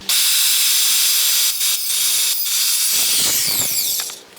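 An Evolution R185CCSX+ circular saw with a multi-purpose blade cuts through wood containing screws, a loud steady high-pitched whine with brief dips as it bites, then spinning down at the end.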